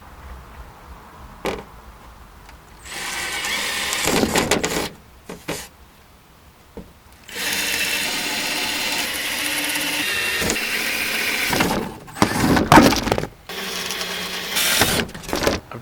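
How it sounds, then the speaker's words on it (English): A power drill bores holes in SUV storage drawers for camping gear, whirring in several bursts of a few seconds each, separated by short pauses and handling clicks. "I'm going to drill holes there and put the webbing through those holes"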